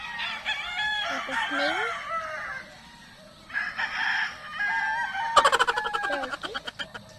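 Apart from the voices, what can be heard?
chickens and rooster crowing on a farm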